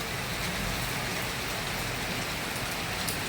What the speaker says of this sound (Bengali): ধামাকাদার বৃষ্টি, দেখতে পাচ্ছ বন্ধুরা।